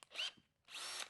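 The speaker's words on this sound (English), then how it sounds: "I can just put that in the drill" A handheld household power drill spins up fitted with a Norton non-woven high-strength abrasive wheel on a spindle, two close whirring bursts separated by a brief pause, with no talking.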